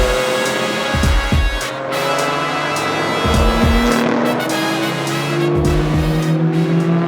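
Race cars at the 24h Nürburgring, including an Opel Manta, roar past with engine notes rising and falling as several cars pass in close succession, with loud low bursts and sustained high engine whine throughout.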